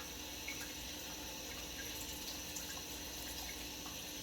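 Tap water runs steadily into a sink while hard-boiled eggs are peeled under the stream, a soft continuous splashing hiss with faint drips and no voices.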